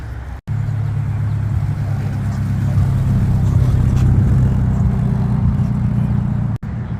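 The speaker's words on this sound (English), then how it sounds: "Got a Dodge Charger coming in, orange, Daytona Hemi edition." An orange Dodge Charger Daytona Hemi edition rolls into a street car show, its low engine rumble steady and fairly loud throughout, close by.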